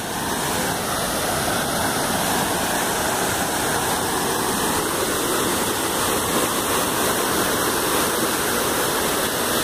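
A waterfall roars on the Rio Preto trail, a dense, steady rush of falling water that fills the air evenly and loudly, close by and without any voices.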